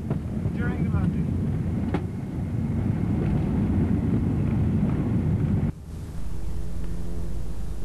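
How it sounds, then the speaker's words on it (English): Wind whistling through the undercarriage of a Piper Arrow PA28R during a low pass, a steady loud rushing roar that drops suddenly near the end and then resumes slightly quieter. "You can hear the arrow whistling away. It's the wind in the undercarriage."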